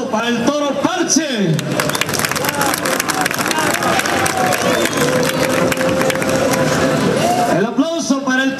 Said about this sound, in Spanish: El aplauso para el toro Parche.